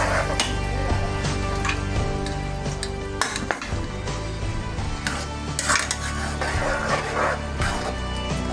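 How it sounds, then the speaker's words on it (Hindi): Tomato and coconut puree frying in a pan for a mutton curry, a steady loud sizzle with occasional scraping and clinks of a spoon against the pan, close up and without talk. "डाल के इसको भी अच्छे से हम भून लेंगे"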